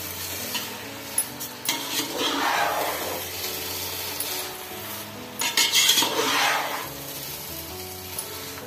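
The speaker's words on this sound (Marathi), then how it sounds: "त्यानंतर केशर दूध आणि वेलची पूड। तर मी व्यवस्थित हलवून घेते," A spoon stirs saffron milk and cardamom powder into coconut rice in a pot, two longer bursts of scraping and mixing with soft sizzling between clinks of metal, close and moderately loud.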